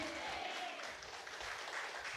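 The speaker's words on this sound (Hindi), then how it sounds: "जोर से ताली बजाओ" A church congregation claps together after the pastor calls for applause, a steady wash of clapping heard fairly faint and distant for a couple of seconds, with a voice briefly audible at the start.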